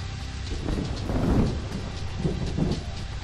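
Thunder and lightning strike in the video game Cradle, a loud, continuous rumbling storm with heavy broadband roar that swells around the middle and again toward the end, with no voices.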